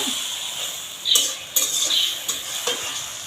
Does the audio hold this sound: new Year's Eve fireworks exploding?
no